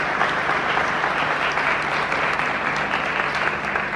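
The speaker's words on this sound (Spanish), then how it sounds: "le pedimos que le den un fuerte aplauso" Steady, dense applause from an audience at a school event in Navarrete, honoring the families of pupils, continuous and even throughout with no break.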